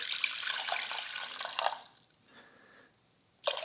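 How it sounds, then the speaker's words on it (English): Water pours and splashes into a container for a second or two, then trickles faintly before a brief final splash. "So what we got to do is add some water."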